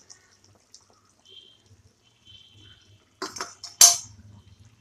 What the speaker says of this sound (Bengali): জল দিয়ে ধুয়ে দিয়ে দেবো। দইয়ের বাটিটা ধুয়ে দিয়ে দিচ্ছি।